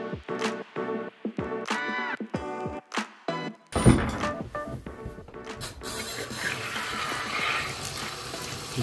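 A bathroom tap runs to wet a rag, starting as a series of short splashes and gurgles, then turning into a steadier rushing flow of water.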